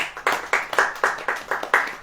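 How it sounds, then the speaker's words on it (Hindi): A church congregation claps hands in unison, a loud, steady rhythmic beat of about eight sharp claps, close and with no talk over it. "फिर ताली बजाओ।"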